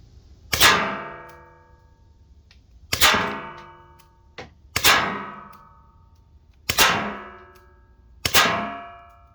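Nylon riot balls fired from an Umarex T4E HDR68 strike a steel baking pan five times at irregular intervals, each hit a loud metallic clang with a ringing tail that fades, with no voices.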